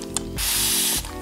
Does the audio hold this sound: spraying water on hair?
yes